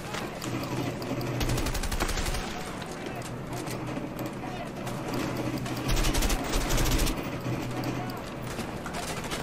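Rapid gunfire from the video game A Way Out crackles continuously in dense bursts, mixed with game noise and someone talking over it.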